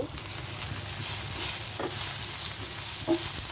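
Egg bhorta with tamarind cooking in a pan, a steady soft frying sizzle with light stirring scrapes throughout, no voices.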